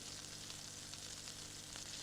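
Garlic, onion and vegetables frying in oil in a pan, a steady close sizzle throughout with no talk.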